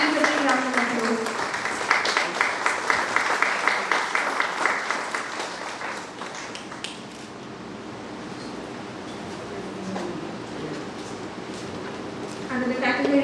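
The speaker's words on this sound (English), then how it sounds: "Please take a round of applause." Applause from a crowd at a Teacher's Day celebration fills the first half, dense and steady, then thins into scattered clapping and murmuring voices.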